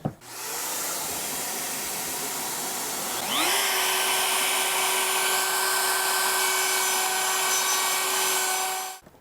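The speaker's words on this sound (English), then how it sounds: "I need to route out that area for our truss rod adjustment nut." A wood router cuts a cavity for the truss rod adjustment nut in a guitar neck. Its loud, continuous whine rises in pitch and intensity partway through, then stops abruptly at the end.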